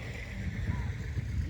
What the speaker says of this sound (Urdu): پیچھے پیٹر انجن ٹیوب ویل کے چلنے کی خوبصورت آواز آ رہی ہے